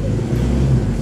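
A Jeep Rubicon engine revving while tackling an off-road obstacle, a loud, steady low rumble with a slight rise in pitch over about a second.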